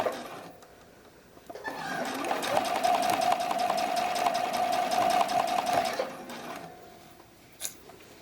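Close, steady whir and rapid clatter of a sewing machine running one continuous seam of about four seconds along the knit-fabric cradles of an iris bralette, starting and stopping cleanly amid quiet room sound.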